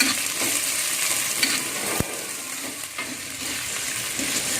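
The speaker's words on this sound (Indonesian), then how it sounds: "Nah, kita masukkan cabenya dan bawang putihnya, kita aduk rata." Red chili, paprika and garlic sizzle steadily in a hot pan while being stirred for sweet-and-sour chicken, a continuous close frying hiss with one sharp tap of the utensil midway.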